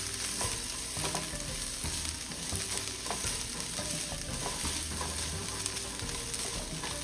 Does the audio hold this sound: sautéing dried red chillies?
yes